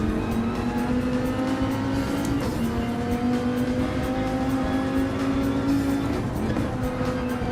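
A Dodge Viper GTS-R Gr.3 race car in Gran Turismo 7 on the Deep Forest circuit, its engine a loud, continuous drone that holds steady with slight pitch shifts through the whole stretch, with no talk.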